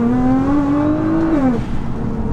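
A Nissan GTR accelerating as its rear end loses grip, a loud, close engine tone climbing steadily, then dropping sharply as the gear changes.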